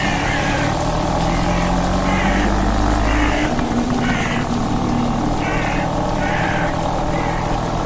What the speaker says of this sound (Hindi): जो स्कूटर शॉन से स्टार्ट नहीं हो रही थी उसे इविल विलन ने स्टार्ट कर लिया।